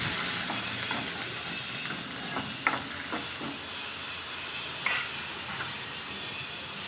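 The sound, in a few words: chopped onion frying in oil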